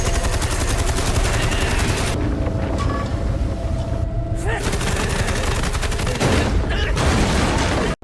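Dense rapid gunfire blasts loud and continuous from a scene in the Japanese film Godzilla Minus One, layered with roaring engine and wind noise and a few brief breaks before stopping abruptly.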